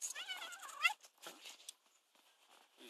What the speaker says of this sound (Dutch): Kijk, kat.